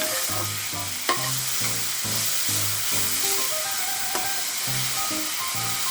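Dill leaves and green gram fry in oil with a close, continuous sizzle, punctuated by a steady rhythm of stirring scrapes against the pan.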